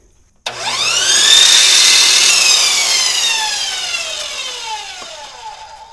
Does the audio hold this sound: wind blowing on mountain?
no